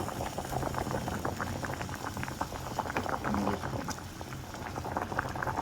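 A pot of thick eggplant curry bubbles and simmers steadily up close, a continuous busy gurgling with no voices.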